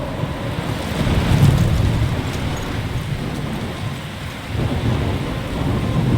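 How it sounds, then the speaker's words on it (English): A thunderstorm with heavy rain roars in the video game Life is Strange, a dense, loud wash of rain with low rumbling thunder swelling and fading, and no voices. "I'm trapped in a storm?"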